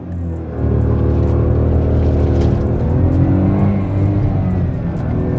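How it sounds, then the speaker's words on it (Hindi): A 2025 Maruti Swift Z12 with a three-cylinder engine revs loudly as the car launches, a steady close engine drone climbing in pitch, with no talk over it. "और ये 3 सिलेंडर इंजन इतना गजब का पुल देने वाला है ना आपको"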